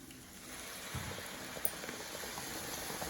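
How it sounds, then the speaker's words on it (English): Heated milk is poured into a pan of cooking carrot halva, giving a quiet, steady bubbling and simmering hiss with a brief splashy burst as the liquid goes in. "now I'm going to put milk in it."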